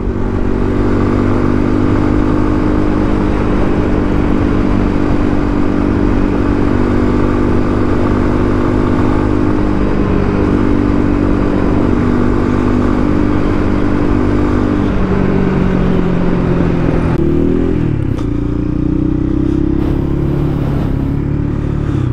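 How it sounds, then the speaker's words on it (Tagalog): A KRY 200 motorcycle on its first ride, engine droning loud and steady with road rumble throughout, the pitch shifting slightly near the end as it changes speed. "Okay naman ang takbo ng motor natin nakuha"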